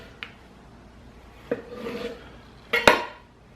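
A HOSHANHO serrated bread knife saws through food in a few close, rasping strokes: a faint tick, then a scratchy pull, then a louder grinding stroke near the end.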